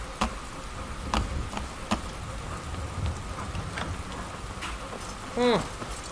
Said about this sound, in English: It's raining, surprisingly.